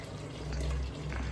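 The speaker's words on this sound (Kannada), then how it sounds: "ಇವಾಗ ಇದಕ್ಕೆ ನೀರು ಹಾಕೋಣ" Water poured into a pot of mutton sambar, a steady low gushing fill sound lasting about a second and a half, close and continuous with no talk.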